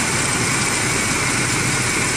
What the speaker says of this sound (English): Notice how nicely that 402 idles.